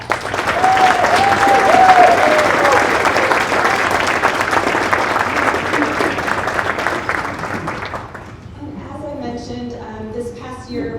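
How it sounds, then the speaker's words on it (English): An audience at a company's annual celebration gives a sustained round of applause, loud and dense clapping that slowly thins out before a voice begins speaking near the end. "So please give them a huge round of applause."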